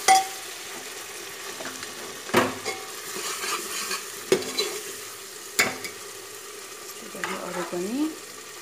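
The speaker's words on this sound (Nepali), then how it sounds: "यसरी सबै राखेर मजाले यसलाई भुट्नु होला" Taro leaf rolls sizzle steadily in a pan over a high flame, with occasional sharp clinks and scrapes of a utensil against the pan.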